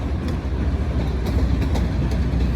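Train locomotives passing close by, a continuous heavy low rumble with faint rhythmic rail clatter, steady and without talk.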